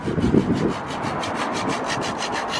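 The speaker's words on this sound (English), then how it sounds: "sawing bits of wood" A handsaw cuts through bits of wood during a crafts session, giving close, rhythmic rasping strokes that repeat about five times a second, loud and dry, with no voices over them.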